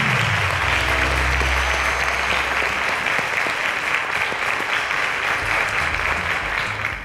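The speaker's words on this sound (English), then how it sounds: "A round of applause to them, ladies and gentlemen." Sustained audience applause fills a studio during a televised mathematics quiz show, a dense steady wash of clapping that stays loud throughout and tapers only slightly at the very end, with no talking over it.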